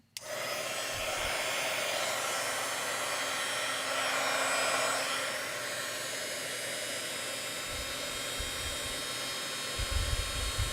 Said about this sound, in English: And then I can grab my heat gun and my tweezers again, and I can just heat each one.